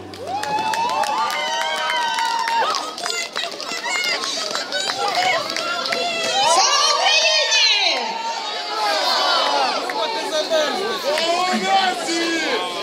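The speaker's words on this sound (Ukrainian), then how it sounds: "Отже, зустрічайте оплесками." An outdoor crowd at Ukraine's main New Year tree event cheers and shouts to welcome singer and journalist Irma Krat, many excited voices and whoops swelling close by with only light clapping.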